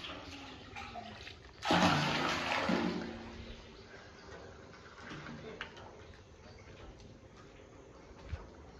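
Water driven by an electric pump motor gushes out in a loud burst, then settles into a fainter, continuous running flow with a few small knocks.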